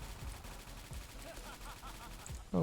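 Rapid bursts of gunfire from the Blue Dragon gun in the shooting game XSHOT, a dense stream of repeated shots over background game sound, ending in a louder sharp burst.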